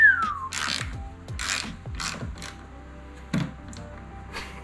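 Clicks from a Snap-on ratchet wrench come in quick bursts, a close, sharp, repeated mechanical ratcheting with brief pauses between strokes and no talk.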